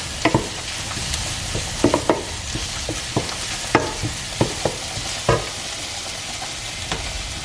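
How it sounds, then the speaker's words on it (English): Italian sausage with herbs and garlic being stirred in a frying pan, a steady sizzle under a run of scraping utensil strokes, close and fairly loud, with no talk. "I'm just going to give that a little stir."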